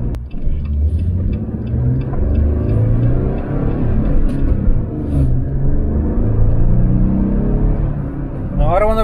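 A 2019 Jeep Wrangler Rubicon driving on a main road, heard as a loud, steady low engine and road rumble that rises briefly near the end, with a voice talking at times.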